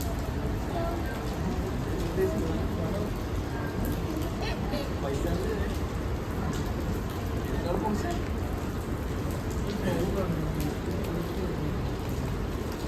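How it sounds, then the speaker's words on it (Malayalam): Light drizzle falling in Kuala Lumpur, a faint steady patter with a soft hiss of urban background, low and continuous, with occasional distant sounds over it. "ഇപ്പോൾ അത് ജസ്റ്റ് ചാറുന്നുണ്ട് കേട്ടോ."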